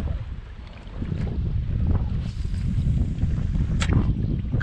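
Steady wind rushing over open water on a cold canal while fishing from a Hobie kayak, a continuous low roar with buffeting against the microphone and faint splashes, no talk.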